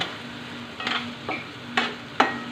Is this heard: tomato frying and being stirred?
yes